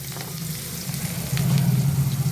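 Chopped onions hit hot oil in a pan after fish frying, giving a steady close sizzle that intensifies midway and continues loud with no talking.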